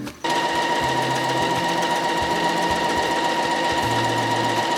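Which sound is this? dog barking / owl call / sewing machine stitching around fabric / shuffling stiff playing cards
sewing machine stitching around fabric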